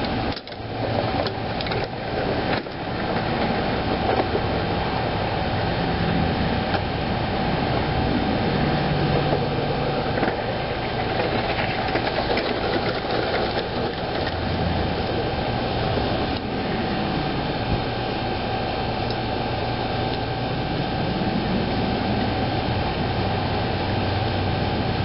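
Steady mechanical drone from a bicycle ridden with a snow plow blade lowered, set up for pushing dirt and snow, the pedalling and scraping continuous and fairly loud throughout with no talking.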